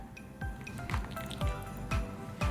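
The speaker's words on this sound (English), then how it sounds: "I'm just going to pour that into a little dish here" Sauce drips and squishes into a small dish in a steady series of soft, wet plops, several in a row, close and fairly quiet.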